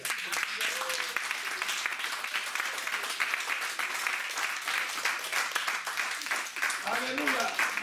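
A church congregation applauds and acclaims, a continuous roar of many hands clapping, with voices shouting and calling out through it from start to finish.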